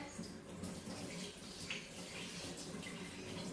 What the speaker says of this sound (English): I just take one of the pads, and then I soak it in hot water.